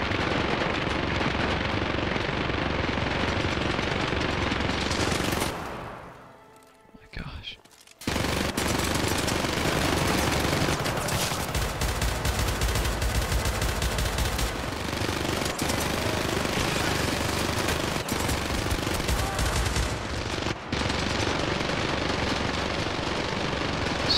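Sustained heavy automatic gunfire from the shooter game Syndicate, loud and dense, rattling almost continuously apart from a brief lull near six seconds before it resumes at full intensity.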